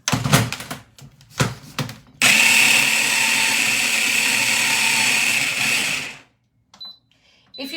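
A hand blender whirs loud and steady for about four seconds, blending tomatoes and spices in a can for an Indian-style peas and pasta dish, with a few knocks before it starts and near silence after it stops.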